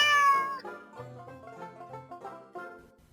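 A cat gives a drawn-out, plaintive meow and then a few softer mews, close and clear with nothing else behind it, in a children's story.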